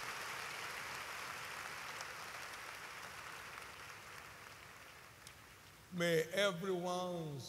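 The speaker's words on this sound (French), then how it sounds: "Acclamez fort pour le Seigneur." A church congregation claps and cheers for the Lord in a steady, loud wash of applause lasting several seconds, then a voice cuts in speaking.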